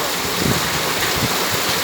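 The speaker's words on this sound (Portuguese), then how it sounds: "do nada começou a cair um temporal" A sudden heavy downpour pours over Rio de Janeiro, a loud, dense rushing wash of rain with low rumbling gusts underneath and no voices.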